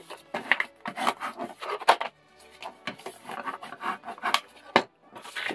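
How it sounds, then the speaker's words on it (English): Chipboard being burnished by hand for a mini folio, firm rubbing strokes in quick irregular bursts with brief gaps, close and clear, with no talking. "So I am gonna burnish it a little bit."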